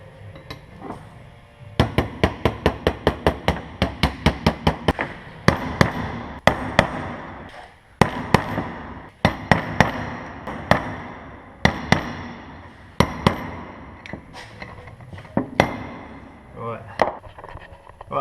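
Metal-on-metal hammer taps seat a car wheel bearing into its housing, with dozens of sharp close strikes in steady runs and pauses, some quieter, while someone talks intermittently underneath.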